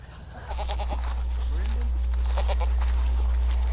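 A billy goat with a beard bleats on a small farm, giving a few short nasal calls over a steady low rumble. Someone talks nearby.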